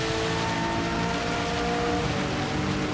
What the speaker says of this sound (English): Oh, that's really heavy rain now.